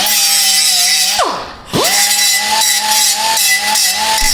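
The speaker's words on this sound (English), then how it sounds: "We're gonna take and deburr these because those are pretty sharp." A power tool deburrs sharp cut pipe ends in a workshop, a loud steady whine that briefly spools down to a stop and then spins back up, running continuously and close.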